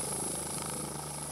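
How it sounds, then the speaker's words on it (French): A rescue helicopter searching over Corsican mountains gives a continuous rotor and engine drone from the sky, steady and moderately distant, with no talk over it. "l'hélicoptère continue les recherches depuis le ciel"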